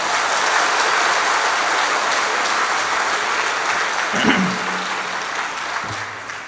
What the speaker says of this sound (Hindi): इतनी जबरदस्त ताली बजनी चाहिए